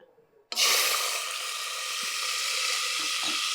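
Oil and ghee burst into a loud sizzle as field beans hit the pan, then keep frying steadily with a few faint clinks.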